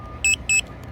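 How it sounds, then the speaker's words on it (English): A Hubsan Zino Mini SE drone remote controller gives two short, sharp electronic beeps in quick succession, close by over faint background noise. "I'll turn off the beeping"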